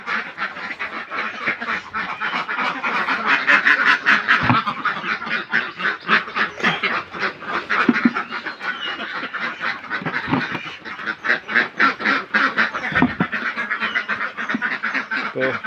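Farm ducks kept with a pond and a house, a flock quacking continuously and loudly up close, with overlapping rapid calls and no pauses.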